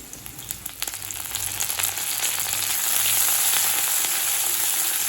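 Steady oil sizzling as garlic, ginger, green chili and curry leaves sauté in a pan for chicken 65, a continuous bright crackle that grows slightly louder, with occasional stirring scrapes.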